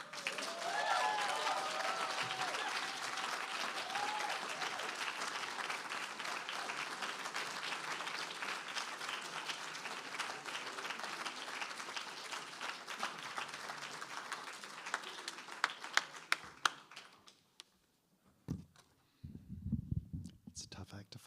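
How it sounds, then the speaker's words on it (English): Audience applause for author Melissa Febos after a faculty reading, steady, fairly faint clapping from a seated crowd that thins and fades out near the end, followed by a few scattered sounds. "Can we please have some more applause for Melissa Febos?"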